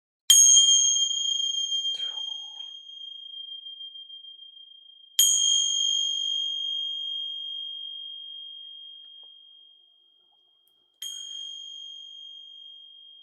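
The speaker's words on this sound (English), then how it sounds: "Gonna ring some bells here. They may be a little loud." Three bright bell strikes spaced several seconds apart, each ringing with a clear high tone that slowly fades into silence, loud and close.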